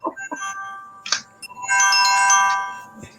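A phone ringtone plays loud and close, a melodic electronic tune with short opening notes and then a sustained bright chime phrase, with no talking over it.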